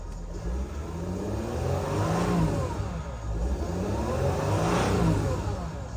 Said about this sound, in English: Turbo's spooling.